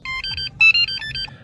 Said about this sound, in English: you should hear a chime sound coming from the Easy Installer